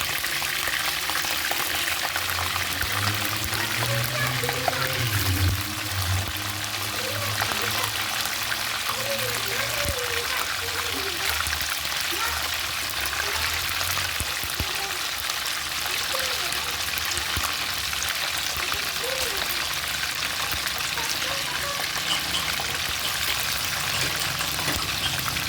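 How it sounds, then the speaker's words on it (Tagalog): Galunggong fish sizzles and crackles steadily in hot oil in a pan, a continuous loud frying hiss with faint clinks, lasting the whole stretch without talk. "Nagpiprito muna ako ng galunggong, yung isda natin."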